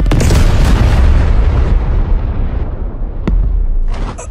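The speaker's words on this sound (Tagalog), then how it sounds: "nagkaroon na ng matinding pagsabog" A loud, heavy explosion in a dramatized wartime scene, a deep rumbling blast that slowly fades, followed by a couple of sharp debris cracks.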